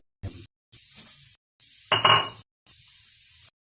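Garlic and onions sizzle in a pan for adobong hito, a catfish adobo, in four separate bursts of crackling frying with short silent gaps between them. The third burst is the loudest and harshest.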